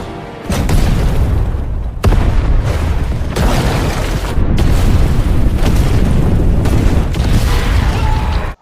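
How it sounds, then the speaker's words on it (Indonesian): A loud underground tunnel explosion in a Rambo film, a sustained roaring blast with several renewed booming surges and rumbling debris over about eight seconds, then an abrupt cut. "Rambo memancing Hugo keluar dengan meledakkan terowongan bawah"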